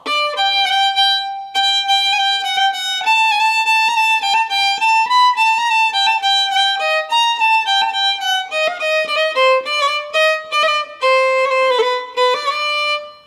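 A solo violin plays a brisk, lively sârba folk dance melody at sârba tempo with quick ornamented runs, clear and close, no accompaniment.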